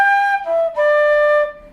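A flute plays a short opening phrase of a traditional tune in a workshop setting, a few clear sustained breathy notes stepping downward, close and alone.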